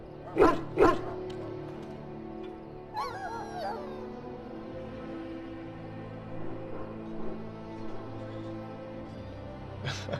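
A dog in Dragon Age: Origins gives two sharp, loud barks right at the start, then softer whines and rumbling sounds follow over a low droning background.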